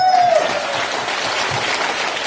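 Applause fills a Korean singing class, a dense even burst of many hands clapping that runs for a couple of seconds, with a brief voice at the start.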